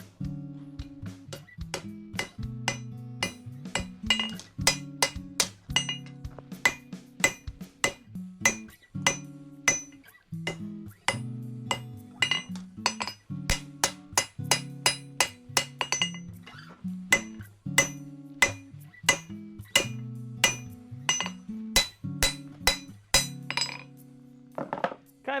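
A hammer rings repeatedly on steel and anvil while forging bevels into a Bowie knife blade, with steady bright clinking strikes, some bouncing double taps, and short pauses between runs, close and clear with no talking.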